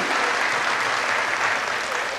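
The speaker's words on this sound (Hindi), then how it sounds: "जोरदार तालियां स्वामी के लिए, जोरदार तालियां 93rd बर्थडे के लिए" Loud, dense applause from a large crowd at Swami's 93rd birthday celebration, a steady unbroken wash of clapping that holds at full strength throughout.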